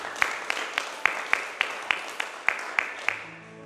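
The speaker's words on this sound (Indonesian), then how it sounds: "Tepuk tangan dulu Tuhan yuk." A church congregation claps along during a Sunday worship service, about eleven sharp claps in a steady, evenly paced rhythm that then stops.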